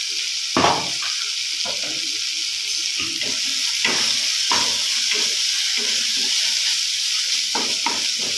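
Water goes into a pan of frying masala for a prawn malai curry, a loud, steady hiss and sizzle with bursts of spitting and bubbling that carry on throughout, close by and with no talking.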